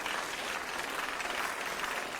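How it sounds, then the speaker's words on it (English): Applause from an awards-ceremony audience honouring ethical-investment finalists, a steady, fairly faint wash of clapping with no voices over it. "So a round of applause for all of them."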